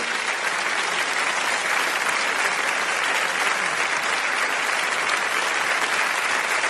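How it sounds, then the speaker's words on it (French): A theatre audience at a comedy stand-up show applauds in a dense, steady wash of clapping that stays loud and even throughout, with no voices standing out. "Mesdames, messieurs, sous vos applaudissements."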